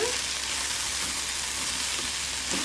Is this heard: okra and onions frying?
yes